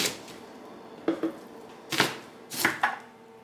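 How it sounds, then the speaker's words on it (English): Knife chopping onions on a cutting board for a 1950s-style casserole: a handful of sharp, quick chops in short bursts, close and fairly loud against a quiet kitchen, with no talking. "Cutting onions is my least favorite thing to do ever, so I just try to do it quickly."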